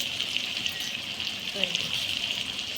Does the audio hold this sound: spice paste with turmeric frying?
yes